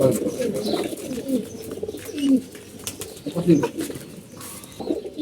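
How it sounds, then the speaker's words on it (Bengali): Pigeons coo in low, throaty, repeated phrases close by, rising and falling across the clip with a few soft chirps. "এই যে একটা কবুতর দেখতে পাচ্ছেন"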